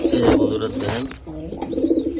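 Racing pigeons coo in a couple of low, throaty rolling calls, close by, with a voice speaking faintly beneath.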